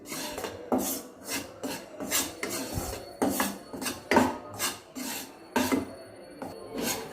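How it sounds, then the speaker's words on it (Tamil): Wheat flour dry-roasting slowly over low heat in a pan for a wheat laddu, stirred with a utensil that scrapes and rasps in steady repeated strokes, close and fairly quiet with no talking. "சிம்மில் வச்சு மெதுவாக நீங்கள் வறுத்து கொடுங்க"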